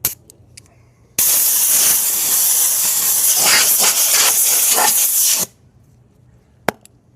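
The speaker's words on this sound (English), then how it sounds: "Might have to use the surface prep spray on the other scuff pad" A loud aerosol surface prep spray hisses for about four seconds in one continuous burst during a wheel rim curb rash repair, followed by a single sharp click.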